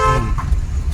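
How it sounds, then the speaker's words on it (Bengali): A car horn sounds during a driving lesson on a road with turns, a short tonal honk at the start over steady engine and road rumble, with no talk. "হ্যাঁ হর্ন দাও"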